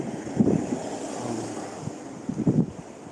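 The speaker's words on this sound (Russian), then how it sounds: "Да, ветрюган. Ветрюган-то еще тот." Strong wind in a seaside park in Yalta buffets the microphone, with a steady roar and two louder gusty thumps. No voices are heard.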